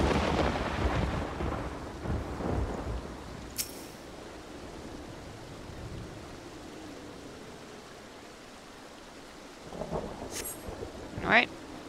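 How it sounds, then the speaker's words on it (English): Rain with rumbling thunder in the game Final Fantasy XIV: a steady wash of rainfall, low rolls of thunder early on, and a brighter crack of thunder near the end, fairly quiet overall. "And it's raining and thundering"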